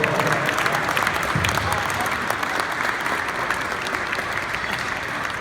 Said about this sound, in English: let's have a nice round of applause for her.